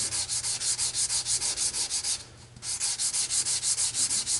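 Wet sandpaper scrubs by hand across an aluminum surface in quick, rhythmic back-and-forth strokes, close and loud, pausing briefly midway before the even scraping resumes.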